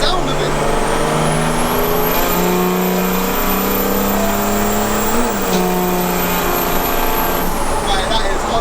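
A custom mail truck engine comes on boost, with a loud rising engine roar and whistle climbing in pitch, peaking midway and then settling, while people talk over it.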